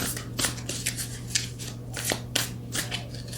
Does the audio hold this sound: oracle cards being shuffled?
yes